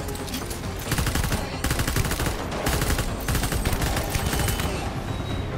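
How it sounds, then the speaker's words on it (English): Assault rifle gunfire in Death Stranding, dense fully automatic bursts fired in several long strings with brief pauses, loud and close, with a voice faintly underneath. "Where's my assault rifle? Assault rifle it is!"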